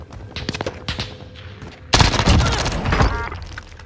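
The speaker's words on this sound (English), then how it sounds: "Somebody else is shooting him." Gunfire in a Call of Duty match with a Ram-7 rifle loadout, rapid bursts of shots that swell into a loud, dense volley partway through, close and punchy.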